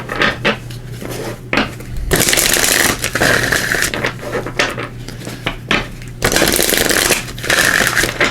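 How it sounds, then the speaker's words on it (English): A Divine Guidance oracle card deck riffled and shuffled in close, loud bursts of papery flutter, with two long cascading shuffles separated by shorter handling clicks and slaps. "Give these a quick shuffle."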